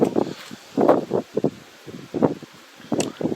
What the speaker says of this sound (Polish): jaki wiatr